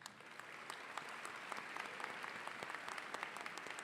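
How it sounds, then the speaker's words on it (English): Graduates and guests at a spring university commencement ceremony for MPA graduates applaud steadily, a continuous wash of many hands clapping heard from some distance at moderate level throughout. "let's give a round of applause to these wonderful people"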